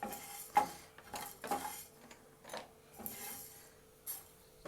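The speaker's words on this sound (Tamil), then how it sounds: "அதுக்கு நம்ம எடுத்து வச்சுருக்க தனியாவை ட்ரை ரோஸ்ட் பண்ணணும்." Coriander seeds and whole spices dry roast in a pan, with a string of short metallic scrapes and stirring clinks coming in irregular bursts against a quiet background.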